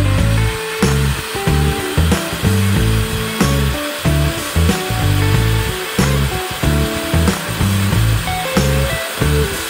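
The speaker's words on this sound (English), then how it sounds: "And I'll get the drill out and let's make another hole." A power drill boring a hole while modifying a baby mobile, loud whirring bursts repeating in a steady stop-and-start rhythm, close up and alone without talk.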